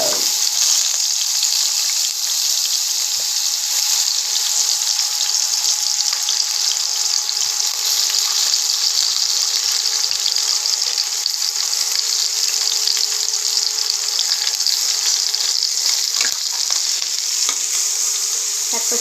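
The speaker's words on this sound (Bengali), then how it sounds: "এক পাশে এগুলো ভাজছি আর ও পাশে বড়িগুলো দিচ্ছি।" Potatoes, pointed gourd and capsicum fry in a pan for a Bengali curry, a loud, steady, close hiss of sizzling oil that runs unbroken for nearly twenty seconds with faint stirring scrapes and no talking.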